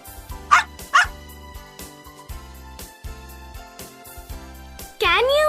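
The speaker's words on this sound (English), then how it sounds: "Dog." A dog gives two sharp barks close by over soft background music, followed by a whining, yelping call near the end.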